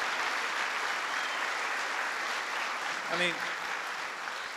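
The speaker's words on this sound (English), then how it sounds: "Can you give them another round of applause?" Audience applause at a political event in Wheeling, WV, steady and broad throughout, with a brief spoken interjection near the end rising above the clapping.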